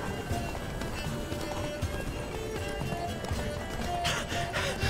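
Roach the horse galloping in the video game The Witcher 3, a rapid rhythmic clip-clop of hooves running steadily throughout, with a brief whinny and faint game sounds mixed in.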